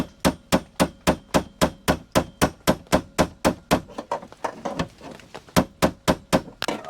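Steady, rapid hammer taps strike a car body panel in an even rhythm, briefly turning irregular before resuming, close and sharp.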